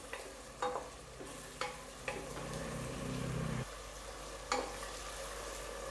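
Chicken biriyani frying in a pan gives a steady close sizzle, punctuated by several sharp scrapes and knocks of a spoon stirring against the pan.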